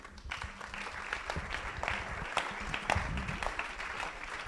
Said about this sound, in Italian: Con un applauso li accogliamo.